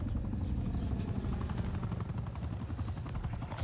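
Steady, loud rotor drone of the exfil helicopter in Call of Duty: Black Ops Cold War, a dense continuous thrum running throughout with no speech.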